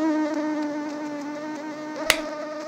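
Asian tiger mosquitoes buzz close by in a garden, a steady, high whining drone that holds throughout, broken near the end by one sharp, brief knock.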